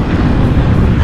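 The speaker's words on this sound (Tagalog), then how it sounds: "Puro headwind kami ngayon." Headwind buffeting cyclists on a road loop in Oriental Mindoro, a loud, continuous low roar of wind against the microphone with no pauses and no talk.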